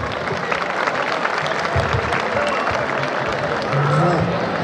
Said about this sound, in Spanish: el impacto que causa el aplauso de nuestro público